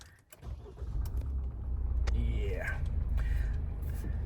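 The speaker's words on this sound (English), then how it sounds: "let's start the vehicle." Heard from inside the cabin, a Thar Roxx SUV engine cranks and catches, then settles into a steady, low idle rumble with a brief rising whine and small interior clicks.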